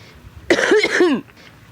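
A short burst of close, harsh coughing from a person with cystic fibrosis, two or three hacking coughs in quick succession in a quiet hospital room.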